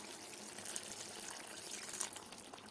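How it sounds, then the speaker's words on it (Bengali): Hot water is poured into a pot of bhetki fish bones in a home kitchen, a faint, steady splashing pour lasting a few seconds. "আমি পাশে পাত্রে একটা জল গরম করে রেখেছিলাম, সেটা দিয়ে দেবো"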